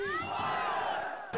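A crowd of protesters marching in support of Assad bellows a collective shout in unison, a sustained roar of many voices at moderate distance that fades near the end.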